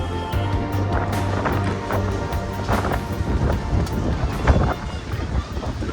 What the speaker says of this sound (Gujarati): હવા એટલી આવે છે.